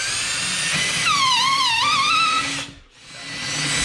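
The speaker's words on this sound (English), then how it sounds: "let's go ahead and drill it in." A power drill drives into a wood wall while a TV mount goes up, its whining motor rising and wavering in pitch for about two seconds, then stopping abruptly before a brief quiet and returning room noise.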